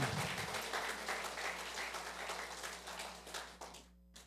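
A church congregation at a Resurrection Sunday service gives steady applause that fades gradually over several seconds and breaks off abruptly at the end, with a low constant hum underneath.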